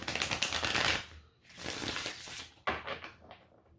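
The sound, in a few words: shuffling Modern Witch tarot cards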